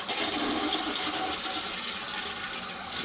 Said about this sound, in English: You can see that we got a good flush there.